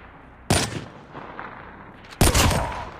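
Call of Duty Mobile gunfire from an assault rifle: two loud, sharp bursts about two seconds apart, each tailing off into a short rumbling echo over low background game noise.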